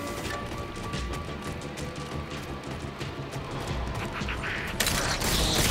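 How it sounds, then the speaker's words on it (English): Halo 1 pistol fire in Halo 4 comes as a dense, continuous volley of loud gunshots with battle noise, growing harsher in the final second. "let's see how this Halo 1 pistol is"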